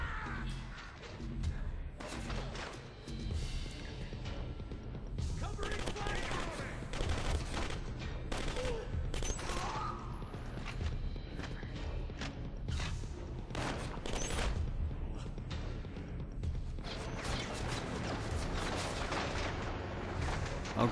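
Rapid gunfire bursts in the first-person shooter Killzone Mercenary on PS Vita crackle repeatedly throughout at a fairly quiet level, mixed with game effects and an occasional voice.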